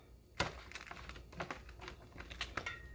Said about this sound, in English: The next step is cutting your onion